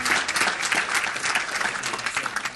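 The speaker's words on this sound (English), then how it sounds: "One more round of applause." Sustained applause from a room of people at a city council meeting, honoring a team being called up for certificates; steady, dense clapping throughout with no break.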